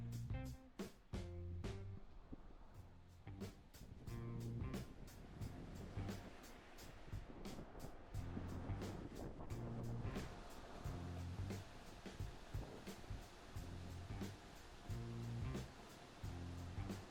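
An automatic car wash at a Canadian petrol station washes a car, giving a loud, steady rush of spraying water and churning machinery with a repeating low rhythmic thumping throughout.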